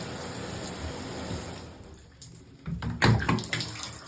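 A shower runs in a steady, close hiss that cuts off midway, followed by a few sharp clatters and knocks.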